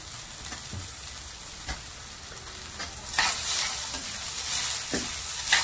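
Long-cut cabbage and thinly sliced vegetables for a veg spring roll filling are stirred and tossed in a hot pan, with a steady sizzle broken by scraping spatula strokes that grow busier toward the end; no one talks.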